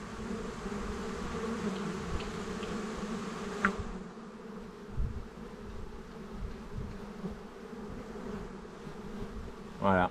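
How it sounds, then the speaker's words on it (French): Honeybee foragers hovering in front of a hive make a continuous, close buzzing hum, with a few brief louder passes and soft background noise. "les butineuses sortent là, et puis elles font un vol stationnaire"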